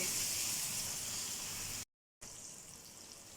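Cubed tomatoes frying in a pan for restaurant-style biryani: a steady, bright sizzling hiss, cut by a brief moment of silence before it resumes.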